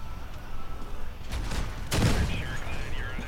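Gunfire hits a player's armored vehicle in Crossout, a dull volley of impacts and a louder burst near the middle over steady engine and game noise, with someone speaking Spanish.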